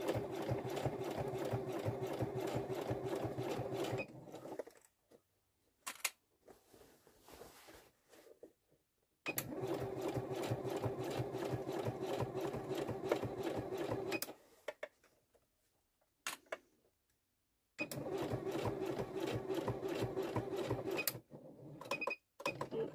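A sewing machine stitches fabric in long, steady runs of close, whirring mechanical chatter, broken by several quiet pauses and a few short clicks between bursts.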